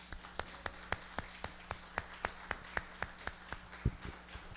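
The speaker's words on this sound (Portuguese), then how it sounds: "Então vamos aplaudir ao Senhor." Rhythmic, evenly spaced claps from a church congregation during a worship service, sharp repeated strikes at a steady beat, moderately distant with a faint room hum beneath.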